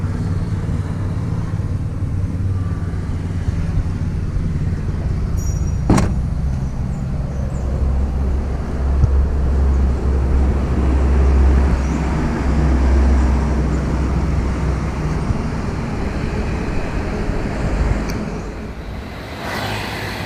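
A Mitsubishi truck pulls away on a road, its low engine rumble steady and close for the whole stretch, with a sharp knock partway through and the noise easing off near the end; no one speaks.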